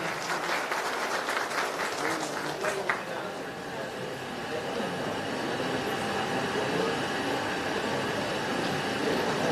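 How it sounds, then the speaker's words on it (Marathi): A crowd at a government outreach event applauds for a woman beneficiary, scattered clapping at first that fades into a continuous rumbling hall noise with a voice murmuring underneath. "जोरदार टाळ्या होते ताईंसाठी"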